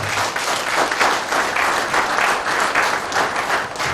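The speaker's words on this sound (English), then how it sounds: "A round of applause for Dr. Adams Olufemi Adeola." An audience at a religious freedom conference applauds in a dense, steady clapping that stays loud and even for the full few seconds.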